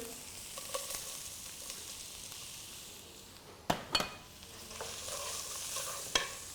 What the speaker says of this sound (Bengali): আমাদের পেঁয়াজটা সম্পূর্ণভাবে গোল্ডেন ব্রাউন হবে।